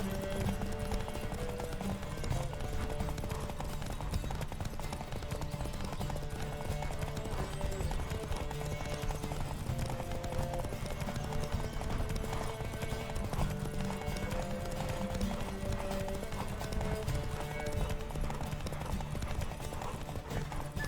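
Steady, rapid hoofbeats of a galloping horse in The Witcher 3: Wild Hunt drum on continuously, with a faint musical background and no pauses.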